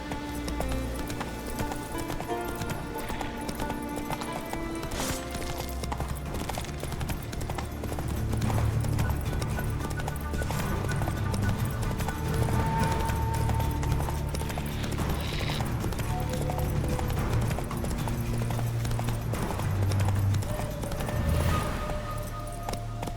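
Roach's hooves in The Witcher 3 clip-clop in a steady rhythm, a continuous trot close by with occasional tack jingles and a low musical bed underneath.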